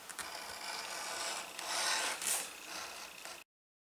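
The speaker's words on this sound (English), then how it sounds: "I am going to take a number 0 beveler" Number 0 beveler rubbing along a leather edge, a soft continuous scraping rasp with slight swells, faint and close, lasting a few seconds before stopping abruptly.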